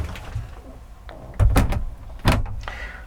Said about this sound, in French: La porte, elle est en 3 pans, mais franchement, j'ai pas eu de difficulté à la fermer